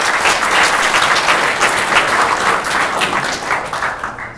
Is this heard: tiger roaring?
no